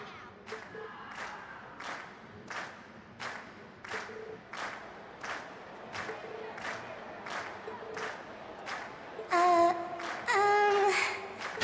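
Game crowd in Trails of Cold Steel cheering after a band performance, rhythmic chants and claps pulsing in a steady beat, then a louder burst of shouts near the end, moderately distant.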